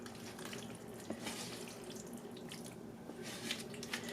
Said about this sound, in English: Now we're going to go ahead and pour all this on top.